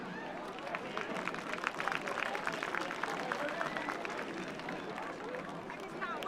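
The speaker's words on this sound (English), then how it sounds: "show them right now you understand their job by a round of applause" A football game crowd at a high school senior night applauds the referees, a dense, continuous clapping that swells slightly and carries on throughout without any single voice standing out.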